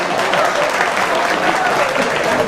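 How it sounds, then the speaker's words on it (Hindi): Loud audience applause, a thick, sustained roar of many hands clapping at a steady level, with faint voices mixed underneath. "एक बार जोरदार तालियां बजा दीजिए"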